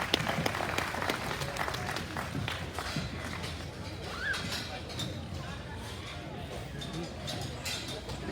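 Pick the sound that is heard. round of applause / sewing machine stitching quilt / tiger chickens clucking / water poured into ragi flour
round of applause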